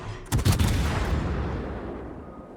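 Warship guns in a naval video game firing armor-piercing shells: two quick, heavy booms close together, followed by a long rumbling decay that fades slowly.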